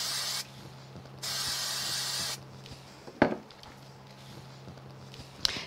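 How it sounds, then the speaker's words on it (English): Spray glue misted from an aerosol can onto white card backing for a handmade window triptych card, two sustained hissing bursts close to the microphone, each about a second long, followed by quieter handling taps. "I'll use a little bit of spray glue for that."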